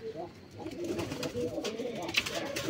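Pigeons at a pigeon farm coo in low, murmuring bursts nearby, with faint background clatter and shifting room noise.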